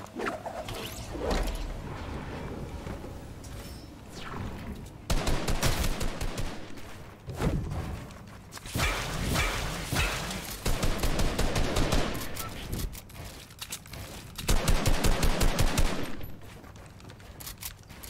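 Rapid bursts of automatic gunfire from a video game, dense volleys and fusillades repeating in loud clusters with short gaps between them, no speech over it.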